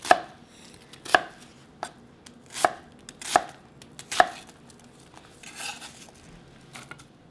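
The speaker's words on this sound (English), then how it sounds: "cut into small pieces, around half inch cubes" A knife chops food, likely potato or onion, into half-inch cubes on a cutting board. Five or six distinct, crisp thuds land about a second apart, close up, followed by softer scraping. No one speaks.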